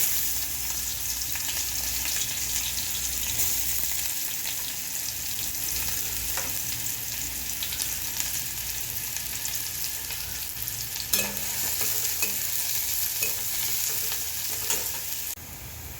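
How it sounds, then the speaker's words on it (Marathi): Onion fries in hot oil for a cluster bean curry, a continuous loud crackling sizzle with scattered spatula stirs and a sharp tap near the end, no voices. "तेल टाकल्यानंतर तेल गरम झाल्यावर परत आपण त्याच्यामध्ये कांदा भाजायला टाकू।"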